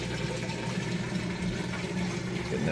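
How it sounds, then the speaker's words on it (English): Kenmore HE washer pumping water out during its drain cycle, a continuous mechanical pump hum with rushing water, steady and close. "There it goes, kicking on the drain."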